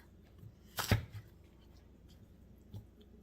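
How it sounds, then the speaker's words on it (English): A knife slices through a red onion on a cutting board with one sharp, close crunching cut, then a faint tap a moment later in an otherwise quiet kitchen. "now I got 2 red onions here. So I'm gonna cut it in half"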